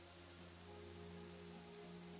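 Rain falls steadily in the city-building video game Kingdoms and Castles, a soft continuous hiss of drops with a faint low musical drone beneath, no voices.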